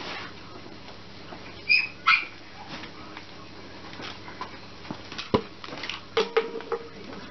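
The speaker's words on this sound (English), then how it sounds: "Okay, yeah, you're still hearing the dog." Dog whimpering with a few short yips and barks, faint and intermittent against a quiet indoor background, with brief louder bursts scattered throughout.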